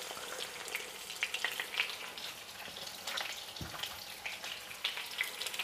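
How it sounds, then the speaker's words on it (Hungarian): Chicken breast pieces fry over high heat in a small amount of oil, a steady close crackling sizzle with scattered pops and no talk. "Ahogy ez felmelegszik, elősütöm a húsokat."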